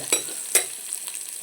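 Onions, green chilies and curry leaves fry in hot oil for a chicken curry, a steady close sizzle broken by two quick clinks of a stirring spoon.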